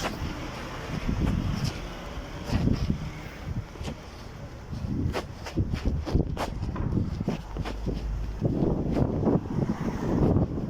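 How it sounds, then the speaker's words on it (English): Wind buffets in gusts at Playa de Palma, Mallorca, low and blustery, with scattered knocks and clicks coming and going. "Whoa, that's a gust of wind."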